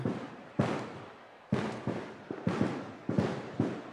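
Firecrackers burst at a celebration in a series of loud, close cracks, spaced irregularly and trailing into dense crackling, with no voices over them.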